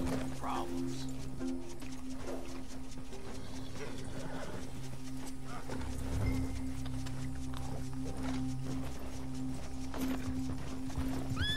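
Horse hooves clip-clopping in the game Red Dead Redemption 2, a steady rhythmic patter under a constant background hum, with a brief whinny.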